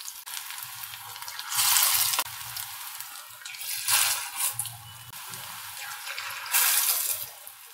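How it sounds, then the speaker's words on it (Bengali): Pakoras sizzle and crackle in hot oil, a steady close frying hiss that surges louder in bursts as fresh pieces drop in, with a low hum running underneath. "এবার আমি ছোট ছোট করে পকোড়ার মতো করে এগুলো ভেজে নেব"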